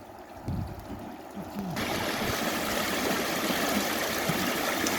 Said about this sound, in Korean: 물소리 구경하세요.